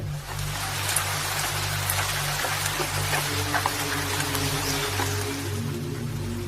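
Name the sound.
rain pouring down on a village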